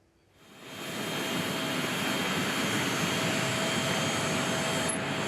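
A presidential jet departs Brasilia, its engines swelling quickly from near silence into a loud, steady roar that holds without any voices.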